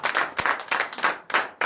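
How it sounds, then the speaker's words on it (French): A church congregation at a Saturday morning prayer service in Benin claps for Jesus, a dense burst of hand claps in uneven waves, close and fairly loud, with no voices over it. "Donnez l'acclamation à Jésus."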